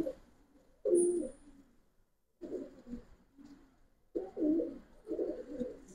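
Pigeons coo in short murmuring bursts from a nearby coop of Giribaz colouring and silver pigeons, with quiet gaps between calls and a faint chirp early on.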